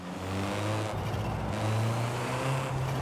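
A drift car's engine in the Forza video game hums deep and steady, rising and falling slightly as it revs through a city, moderately loud and heard alone.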